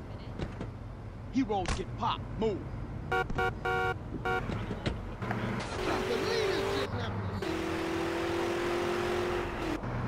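Vehicle and street sounds in GTA San Andreas Definitive Edition on PlayStation 5: a steady engine drone with clunks and door-like thumps, a car horn sounding partway through, over busy game background noise.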